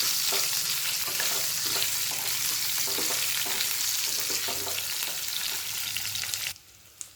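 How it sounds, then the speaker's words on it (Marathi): Bitter gourd and masala sautéing in oil over a lowered gas flame: a steady, close sizzle and crackle with repeated stirring scrapes, fading sharply near the end. "आता हे सर्व परतून घ्यायचं आहे तेलामध्ये."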